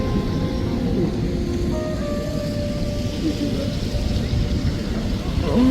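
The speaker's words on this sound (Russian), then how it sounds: "Вот шумит у нас вода здесь." Water rushes steadily as a manually operated canal lock fills on the Rideau Canal in Ottawa, a continuous low roaring wash close by, with faint tones drifting over it.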